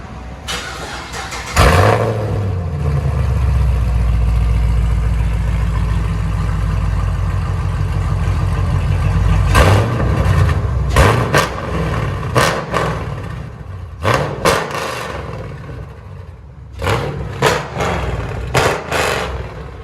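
A Chevy Camaro SS with a 6.2L V8, aftermarket exhaust and cold air intake starts up loud and close, settles into a deep rumbling idle, then gives a string of sharp throttle blips and revs.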